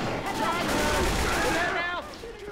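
Rapid gunfire against zombies in the game Left 4 Dead 2, a dense stream of overlapping shots with ringing tonal effects, fairly loud and continuous before easing off near the end.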